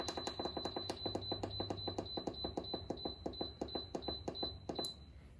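An electric pressure cooker beeps repeatedly as it is set to manual mode on low pressure for three minutes, giving a rapid, steady train of short, sharp electronic beeps close by.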